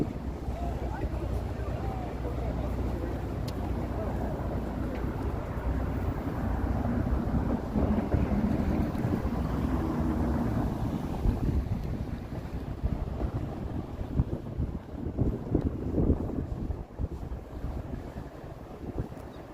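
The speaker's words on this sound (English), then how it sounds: "Very chilly wind right now." Cold, chilly wind roaring steadily across the microphone on a downtown Toronto street in late March, a continuous loud rumbling gust that swells and buffets, with a voice talking underneath.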